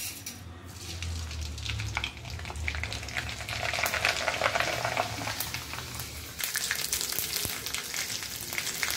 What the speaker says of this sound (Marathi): आपण हा साबुदाणा आता तळून घेणार आहोत।